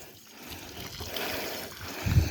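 Hot water poured from a container onto garden weeds, a soft splashing trickle that builds over two seconds and ends in a low thud, close and fairly quiet.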